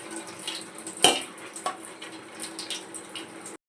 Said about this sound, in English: now I am rinsing the dishes